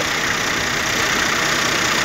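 A car engine idles steadily at close range, with its breather dripping onto the exhaust. A continuous even hum with a faint rough texture and no other sounds.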